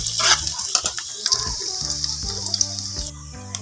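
Garlic and ginger frying in a pan, a bright sizzle running throughout with scattered stirring clatters, low background music underneath.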